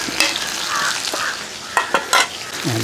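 Onion, green chillies and curry leaves hit hot tempering oil for a Kerala mango pachadi, giving a loud, close sizzling hiss with a few brisk spatula scrapes and stirs near the end.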